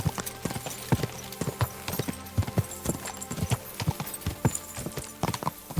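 Horse hooves in the medieval video game Kingdom Come: Deliverance II beat in a quick, steady clip-clop rhythm, close and distinct, continuing throughout with a low background hum.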